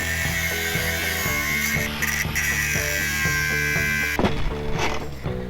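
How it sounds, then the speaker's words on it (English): An angle grinder cutting off a welded plate from a vehicle damaged in a head-on collision, a steady loud high whine with a constant droning motor hum and a shift in pitch as it bites harder near the end. "Looks like I'm gonna need the grinder."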